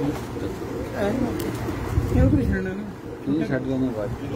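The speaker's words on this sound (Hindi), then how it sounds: "ये बटेरा कबूतर है जी माशाल्लाह" A Batera pigeon coos in low, wavering phrases on a rooftop, close by, under a voice talking.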